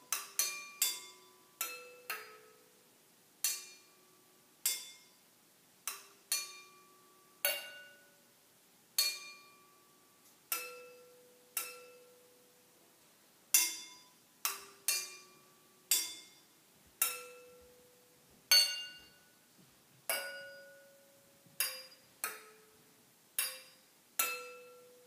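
A melody is played on struck glass bottles tuned to different pitches, clear ringing clinks in a steady rhythm with short decays, close and alone with no talk.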